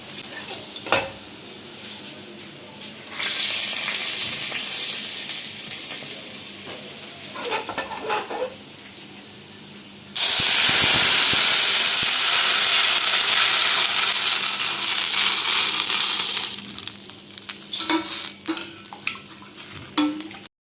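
Hot tempering is poured into rasam, setting off a loud, sustained sizzling hiss in two long bursts, the second louder, with clinks and stirring scrapes before and after.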